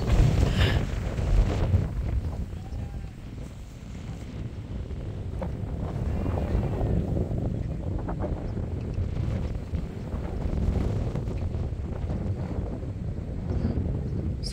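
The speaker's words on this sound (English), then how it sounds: "the wind is really strong" Strong wind buffets a handheld microphone outdoors at a tall-grass sheep pasture, a loud continuous rushing roar that swells and eases throughout with no talking.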